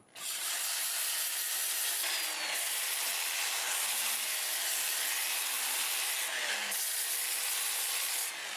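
Sandpaper rubs against a fairly large-diameter wood turning spinning on a lathe at about 320 to 350 RPM, giving a steady close hiss with slight shifts in pressure and no talking.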